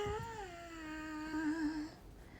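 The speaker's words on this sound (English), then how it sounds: "Meow." A single long, drawn-out meow from a cat, close and fairly loud, with the pitch wavering slightly before it stops.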